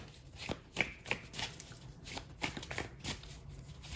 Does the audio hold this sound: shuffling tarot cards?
yes